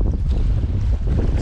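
Wind buffets the microphone on a lake shore during salmon shore fishing in the middle of the day: a steady, loud, low rumbling roar with no breaks and no voices.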